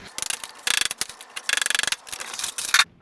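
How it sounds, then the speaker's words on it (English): Ratcheting strap being cranked to pull a part during a Kia Soul automatic transmission replacement, rapid bursts of metallic clicking in short quick strokes separated by brief pauses, close and fairly crisp. "I just used a ratcheting strap."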